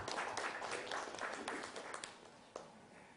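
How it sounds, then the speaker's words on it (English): An audience at a management education conference applauds with dense, steady clapping that tapers off toward the end, with a few scattered last claps. "Can we have a big round of applause for him as well?"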